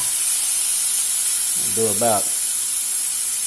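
Minced garlic sizzles in a hot pan alongside Cajun steak bites, a steady bright hiss running the whole time, with a short spoken word over it partway through.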